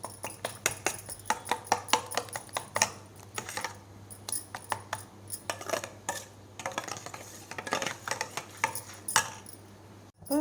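Sugar whisked into beaten eggs in a bowl for a sweet bread omelette, a quick run of close, clinking strokes against the bowl's side at a steady, slightly uneven rhythm, with no one talking.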